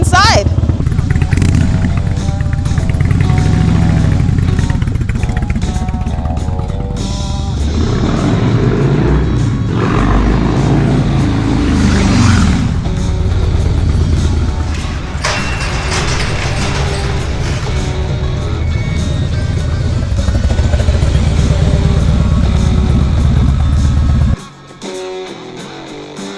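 A motorbike rides around a building, its engine a continuous loud rumble that rises and falls with throttle changes before cutting off near the end, with a person speaking over it.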